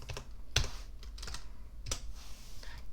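Typing on a computer keyboard, a few scattered, fairly close key clicks with uneven pauses between them over quiet room tone.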